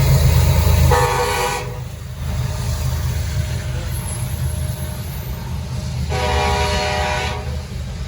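A Norfolk Southern train horn, K5LLA type, sounds two long chord blasts at moderate volume, separated by a pause, over steady rumbling of a passing train.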